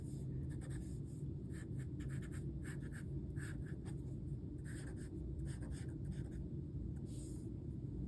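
Sharpie marker strokes on paper, a series of short scratchy squeaks in an irregular rhythm, close and quiet over a low background rumble, with no speech.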